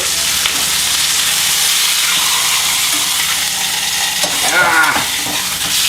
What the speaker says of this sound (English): You hear that popping? That's the searing.